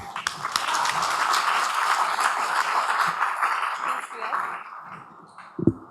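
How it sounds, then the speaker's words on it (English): Steady applause from an audience at a PechaKucha Night talk event in Ubud fills the room, dense and continuous, with a few louder claps near the end. "So please give a big applause to Dr. Dani."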